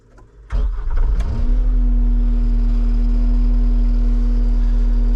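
A New Holland C330 skid steer engine cranks briefly and catches, then settles into a loud, steady diesel idle with a constant low hum, close by.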